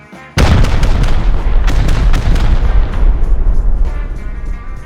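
Rockets hit a bunker during a raid in Rust: a sudden heavy boom opens, then a string of loud blasts and crackling impacts gives way to a fading rumble.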